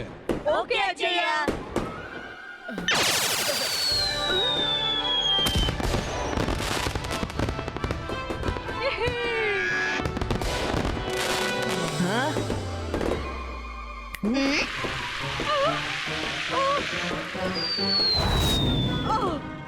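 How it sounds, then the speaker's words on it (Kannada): Diwali fireworks and firecrackers going off, with loud repeated bangs, crackling bursts and whistling rockets mixed with voices and background music throughout. "ಪಟಾಕಿ ಹಾರಿಸಿ, ಆದ್ರೆ ಎಚ್ಚರಿಕೆ."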